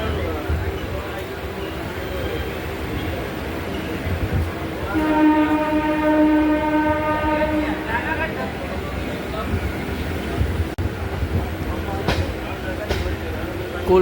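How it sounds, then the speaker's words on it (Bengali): Passenger train pulling out of Naihati station, a steady rumbling roar of wheels and carriage noise with a sustained horn-like tonal blast in the middle, heard from on board, with voices murmuring throughout. "5টা 9 মিনিট পর নৈহাটি স্টেশন থেকে আমাদের ট্রেন ছাড়লো।"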